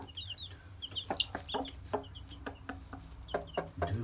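Two hens cluck close by in short irregular bursts while their ten chicks keep up high, rapid peeping throughout, with a low background rumble.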